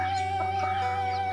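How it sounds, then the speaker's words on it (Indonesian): Free-range village chickens in a rural Sundanese countryside setting beside rice fields give a few faint, brief clucks over a steady background hum, with no talking. "ayam kampungnya nih banyak banget."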